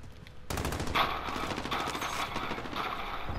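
Rapid bursts of gunfire shot at an enemy in a multiplayer shooter video game start abruptly and keep going as dense, loud, rattling volleys with faint team chatter underneath.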